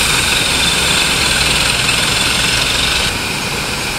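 Motorcycles and cars sit idling in a stalled traffic jam at a stoplight in Pasig, a constant, dense engine drone that stays loud and even, easing slightly near the end.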